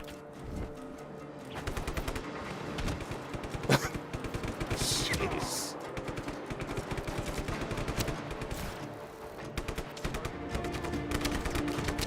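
Rapid automatic gunfire in the video game Just Cause 3, dense bursts of machine-gun fire continuing nearly throughout with a sharp louder shot near the middle, set in a busy game soundscape.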